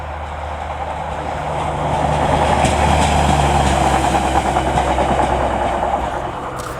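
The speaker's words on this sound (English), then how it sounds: "sorry guys, but there's a train coming" A train passes nearby, a loud continuous rumble and roar that swells after a couple of seconds and holds steady, with no talking over it.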